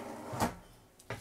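Soft-close drawer on a bathroom cabinet in a 2020 Newmar Kountry Star 4037 RV sliding shut, heard as a short muted slide and gentle thud, then a second soft bump a moment later, fairly faint in a quiet room.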